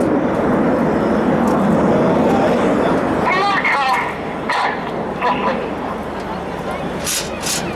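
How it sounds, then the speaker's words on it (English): Red Arrows jets fly overhead in a big battle formation trailing red, white and blue smoke at the Luchtmachtdagen 2019 air show, a loud sustained jet roar that eases slightly midway, with commentary talking over it. "Leads the aircraft over in big battle formation, the red, white and blue smoke flowing as he pulls them up to the vertical"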